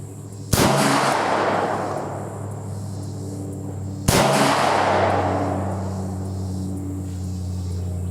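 A CZ-52 pistol fires two loud, close shots about three and a half seconds apart, each a sharp crack followed by a long, rumbling echo that slowly fades.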